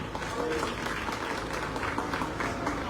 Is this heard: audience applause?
yes